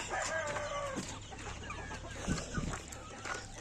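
Chickens being hand-fed cluck close by, with busy overlapping calls and a short crow-like cry near the start. A few sharp pecking knocks come near the end.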